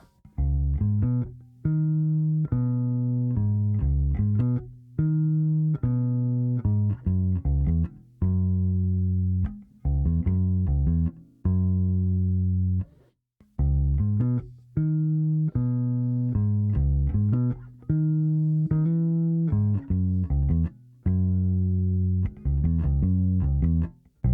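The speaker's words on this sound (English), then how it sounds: "we're on to bass line number 4. Let's hear it slow down." A bass guitar plays an arpeggiated bass line of clear, separate notes at an unhurried pace, with brief pauses between phrases, close and fairly loud with nothing else.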